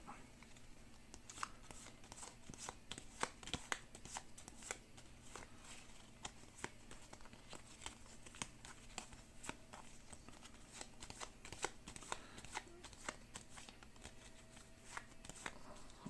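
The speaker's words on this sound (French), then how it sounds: "on remélange les cartes" Playing cards are shuffled repeatedly during a tabletop session of Aeon's End Legacy, giving a steady run of crisp riffling and snapping bursts at moderate volume with no talking over them.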